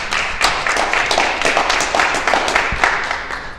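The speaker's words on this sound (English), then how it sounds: "Give Mike a round of applause, guys." A round of applause from a seminar audience, dense steady clapping from a room of people kept at an even level throughout, with no talking over it.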